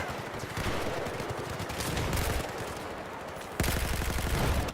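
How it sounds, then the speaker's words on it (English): Sustained rapid gunfire from the video game Maximus Boomus, continuous automatic shooting at players with a brief drop then a louder renewed burst near the end. "Maximus was shooting at a group of people there"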